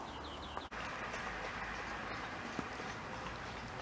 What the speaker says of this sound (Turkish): Çok güzel kuş sesleri geliyor bana.